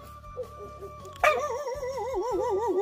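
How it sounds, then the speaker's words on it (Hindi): A dog barks and yips near a hillside home on a mountain village lane, with short sharp calls followed by rising, wavering whines that carry on steadily over background noise. "रिंकू का घर आ गया, ये परेशान करेगा, एक डॉग का नाम है, वो हमारी आवाज़ सुनते ही भाग काटने आता है।"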